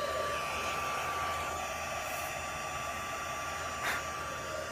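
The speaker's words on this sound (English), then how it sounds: "So you just heat that up until it gets shiny" Heat embossing tool blowing hot air over embossing powder on a stamped Thanksgiving card, a steady, even whir holding throughout at moderate level with no talk.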